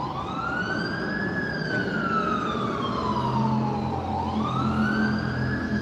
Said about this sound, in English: I'm sure you can hear that siren.